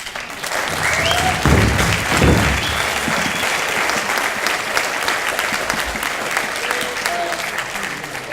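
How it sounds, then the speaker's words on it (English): Sustained audience applause fills a graduation honoring ceremony for Native American graduates, a dense steady wash of many hands clapping for several seconds with a few voices and whoops mixed in. "let's give everyone a round of applause"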